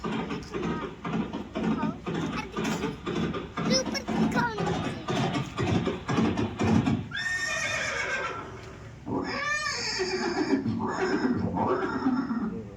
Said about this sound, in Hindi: घोड़ा दौड़ रहा है भाई।